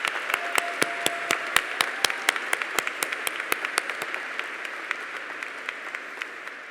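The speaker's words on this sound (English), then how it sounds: "Give yourselves a hand." Graduation commencement audience at Grinnell College clapping for the class of 2025, a sharp, dense burst of applause that thins and fades over several seconds, with no talk.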